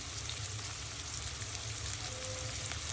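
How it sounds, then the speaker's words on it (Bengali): Chopped onion sizzles and crackles in hot oil as a base for a rohu fish jhuri, a steady dense fry heard close and loud without pause and with no talking. "তেল গরম হয়েছে, এখন আমি দিয়ে দিব পেঁয়াজ কুচি"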